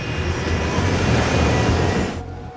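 Jet airliner taking off slowly down a runway, a loud continuous engine roar with steady broadband rumble and a faint high whine, cutting off abruptly near the end.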